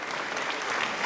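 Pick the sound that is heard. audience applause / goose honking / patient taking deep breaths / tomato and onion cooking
audience applause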